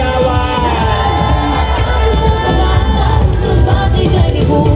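A crowd at a street parade of government workers and groups roars and shouts loudly and continuously, a dense wall of cheering voices with no pause.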